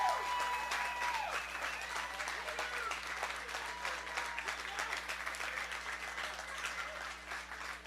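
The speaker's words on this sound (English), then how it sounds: "I want to hear one really solid round of applause for these guys." A crowd at a fundraiser applauds firemen and police, a steady, dense wash of clapping sustained throughout, moderately distant, with whistles near the start.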